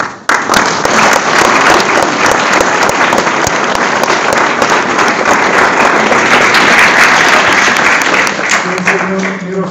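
A concert audience applauding performers of a Czech music duo, dense sustained clapping from many hands filling the hall, loud and steady before tapering at the end.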